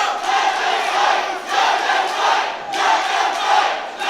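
A wrestling crowd at an independent show in Miami shouts and roars in a dense, continuous wall of voices that swells and dips in waves, filling the space at steady loudness.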